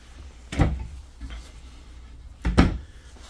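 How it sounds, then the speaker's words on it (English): A large full-extension drawer in the solid wood kitchen cabinetry of a 2023 Grand Design Transcend 221RB travel trailer slides open and shut, giving two distinct woody thumps about two seconds apart, close by in a quiet room. "A big drawer down below."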